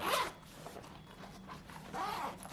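A zipper opens on a backpack pocket of an Aer City Pack Pro X-Pac bag, heard as a quick close zip, a quieter pause with small rustles, then a second zip stroke.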